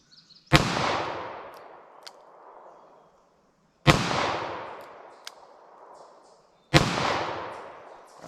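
Buffalo Bore .32 S&W Long wadcutter rounds fired from a pistol outdoors at a target, three loud close shots spaced about three seconds apart, each ringing out with a decaying echo.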